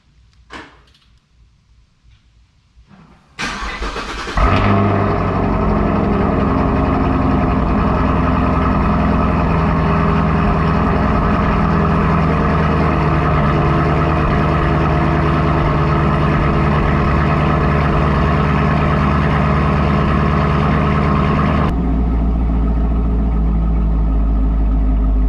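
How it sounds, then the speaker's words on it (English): A 2016 Camaro 2SS V8 cold-starts inside a garage: a few quiet shuffles, a brief crank, then the engine catches with a loud flare and settles into a steady, heavy, deep rumbling idle that holds until it drops away near the end. "let's give her one final cold start in the garage"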